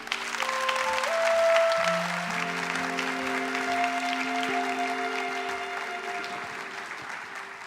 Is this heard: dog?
no